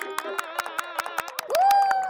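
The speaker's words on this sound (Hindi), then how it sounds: "फिर से तालियां।" A crowd gathered at a village crossroads in Lapataganj claps again after a statue is announced. The claps are sharp and evenly paced, heard over a sustained musical tone.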